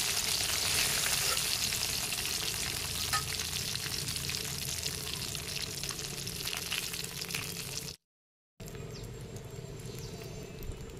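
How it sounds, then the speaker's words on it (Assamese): Continuous crackling sizzle of fish and onion frying in hot oil, fairly close, quieter after a brief cut near the end. "তেলখিনিতে মই পিঁয়াজ ভাজিম, মাছ ভাজিম"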